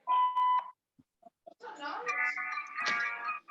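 A mobile phone gives a few bright, steady electronic beeps at the start, followed by a person talking in a room.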